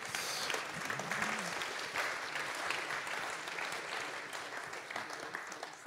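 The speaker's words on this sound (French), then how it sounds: "on va applaudir." A large audience applauds at the Femina Numerica and Homo Numericus awards ceremony during Mêlée Numérique 2023, a steady, fairly distant wash of clapping that holds evenly for several seconds.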